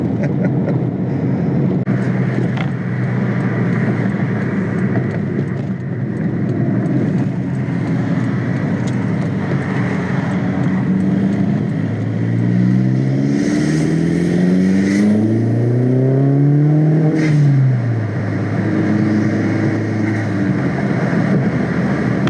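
A Volkswagen Mk4 Jetta drives along with a steady engine drone and road noise, then revs up through rising gear pulls and eases off, heard from inside the car with no talking.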